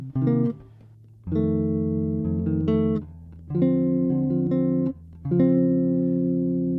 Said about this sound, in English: I'll scale back some of the bass, the lows, and just play some chords